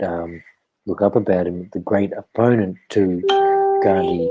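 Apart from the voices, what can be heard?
phone notification sound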